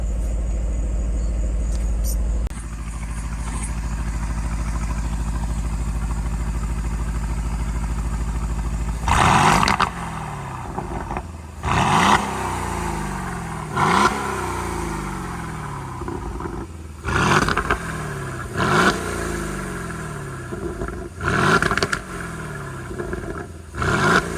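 A turbocharged exotic car sits idling at a steady drone before a series of sharp revs, each surging up and dropping back in a repeating rhythm, all captured from outside the car at fairly close range.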